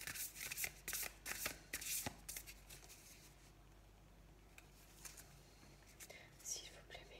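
Tarot cards are shuffled close up in quick bursts of riffling and flapping, then the sound goes quiet, with soft whispering near the end.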